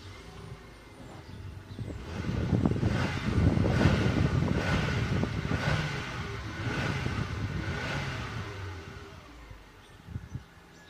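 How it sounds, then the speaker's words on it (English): An iconic Ford car's engine runs after an oil change, rising into a louder revving drone with pulsing surges before easing back down, with some wind noise on the microphone. "I'm going to refill the engine up with clean oil and then run the engine to look for any"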